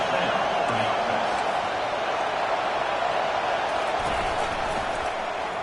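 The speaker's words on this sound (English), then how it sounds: "It is getting loud as this crowd tries to help its defense." Steady, loud roar of a stadium crowd at a college football game as fans make noise to help their defense, a continuous wash of cheering with no pauses.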